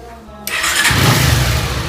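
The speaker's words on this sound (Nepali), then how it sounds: "बाइक स्टार्ट गरौँ पहिला" A motorcycle engine cranks and catches at once, settling into a steady, loud idle rumble close by after a brief quiet start.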